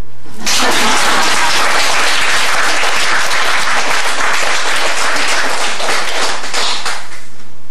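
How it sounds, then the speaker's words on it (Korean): Audience at a lecture on Buddhism and the future of Korean society bursts into loud, dense clapping that starts abruptly and holds steady and close for several seconds. "이때 박수를 쳐야 돼요"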